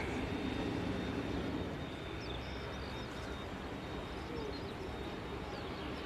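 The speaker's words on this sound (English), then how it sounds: "the Luxair arriving in from Luxembourg, following a 1 and a half hour flight over" A Luxair airliner inbound from Luxembourg at Manchester Airport, a steady broadband engine roar at moderate distance that holds constant throughout, with no voices.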